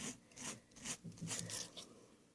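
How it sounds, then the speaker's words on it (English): A nail file rasps straight down on the edge of a nail wrap in quick, faint, rhythmic strokes, about six short scrapes close up with no talking. "I'm filing straight down, straight down."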